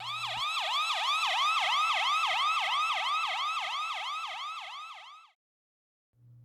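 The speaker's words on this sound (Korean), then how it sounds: "구급차가 급히 달려왔습니다." An ambulance siren rushing to help, sounding a fast, loud, rising-and-falling wail that repeats steadily for about five seconds and then cuts off abruptly, leaving a faint low hum.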